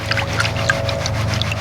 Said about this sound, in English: you go ahead and just gently wash the material off the top of the pan